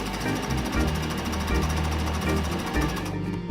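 A sewing machine stitches pajama pant pieces together, running continuously with a fast, steady mechanical chatter close up, loud and uninterrupted before easing at the end.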